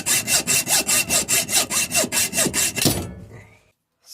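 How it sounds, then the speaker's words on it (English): A hacksaw cutting a metal bar for a model steam locomotive's lubricator pump body rasps back and forth in a steady rhythm of about a dozen even strokes, close and loud, then stops and fades out. "So just for Kev, I'll have some gratuitous hacksaw action."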